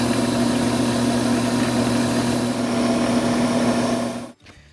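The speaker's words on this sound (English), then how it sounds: "Now let's go ahead and sand it flat." Wood lathe spinning a spalted maple pen blank while its CA glue finish is sanded flat, a steady loud mechanical hum and rumble that continues evenly, then cuts off abruptly near the end.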